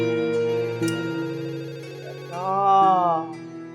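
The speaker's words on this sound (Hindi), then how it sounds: "फोन टिडिंग टिडिंग कब से बजे जा रहा है, हवेली से फोन आ रहा है" A telephone rings with a sustained electronic melody of shifting tones, steady and fairly loud, with a brief low thump partway through.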